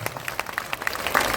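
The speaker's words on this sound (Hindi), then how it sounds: "ताली, जोर से ताली बजाइए।" Brief burst of crowd applause at an outdoor political rally, scattered claps rising toward the close of a very short stretch.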